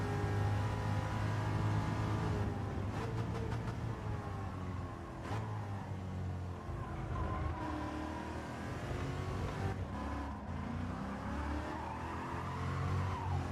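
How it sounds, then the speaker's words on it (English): Car wheels spinning with squealing tyres in Gran Turismo 7, a low-traction car straining to grip. A steady, loud engine drone with tyre squeal runs throughout, with no talking. "Listen to a wheel spin."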